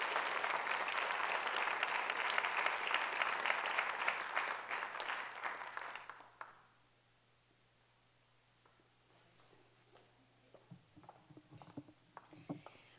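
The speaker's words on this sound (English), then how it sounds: "Give them a warm round of applause." Warm audience applause greets guests welcomed to the bema at a Shabbat service, a full, sustained clapping that runs for about six seconds and then stops abruptly, leaving a quiet room with a few faint noises.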